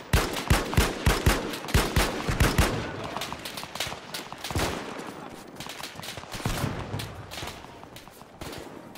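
Gunfire crackles in an Arma 3 firefight: rapid bursts of loud shots come first, then scattered, irregular reports over a busy background of combat noise.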